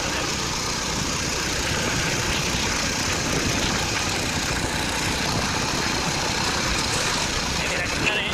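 A tractor engine runs steadily at close range, a continuous loud mechanical drone with broadband rumble and no pauses.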